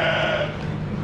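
Lambs and ewes bleating in a sheep barn where ewes give birth, heard as a continuous, dense mix of animal calls and barn noise over a short stretch.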